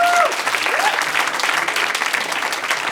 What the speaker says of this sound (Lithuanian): Tai dabar garsus plojimai, kad aktoriai mus išgirstų ir sugrįžtų.